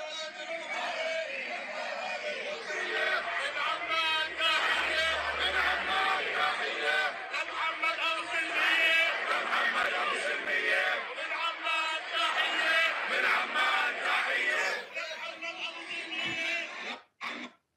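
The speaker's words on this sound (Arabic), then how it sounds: "هذه الجماهير الأردنية أيضا هنا تهتف بإسقاط اتفاق السلام" Crowd of Jordanian protesters, led by doctors, chanting against the peace agreement at a street demonstration; dense, continuous massed voices fill the whole stretch at steady loudness, ending abruptly.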